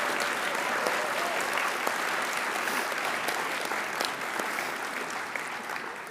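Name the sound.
applause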